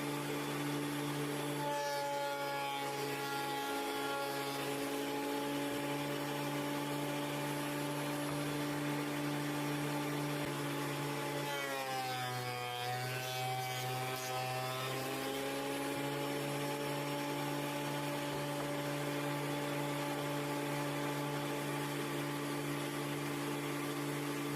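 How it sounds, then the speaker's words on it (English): A power sander hums steadily while smoothing a new figured wood top on an old Ibanez Blazer guitar, a constant droning whine with brief pitch shifts as pressure changes, loud and close throughout. "Sand it."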